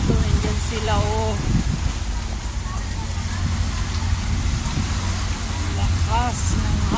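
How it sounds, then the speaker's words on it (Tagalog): Strong wind and rain roar as a steady, broadband wash of noise, with people talking and calling out over it. "Lakas ng hangin. Saka yung ulan."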